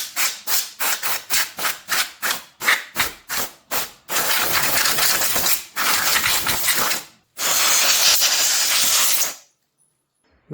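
Cleaner sprayed on the removed side mirror parts of an Audi A4 B9, near and loud: a quick run of a dozen short hissing pumps, then longer bursts of spraying or rubbing before it falls silent.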